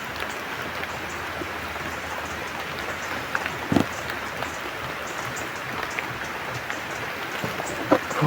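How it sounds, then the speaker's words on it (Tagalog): Heavy rain falls in a constant broadband wash, with a few sharper knocks and splashes standing out near and in the foreground. "Medyo malakas ang ulan."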